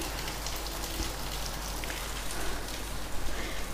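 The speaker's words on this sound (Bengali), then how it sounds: "এই যে বাইরে দেখো বৃষ্টি হচ্ছে," Steady rain falls outside, a dense, even patter on surfaces that holds at a constant level throughout with no voices.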